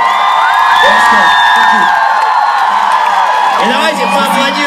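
Loud crowd cheering, whooping and shouting for BTS at a live stage event, a dense continuous roar with high excited screams rising and falling throughout.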